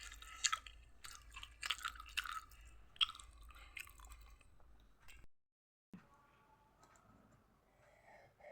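A two-year-old child chews food while being fed at night, with close, soft crunchy mouth sounds in irregular bursts, a brief silence midway, then quieter chewing resumes.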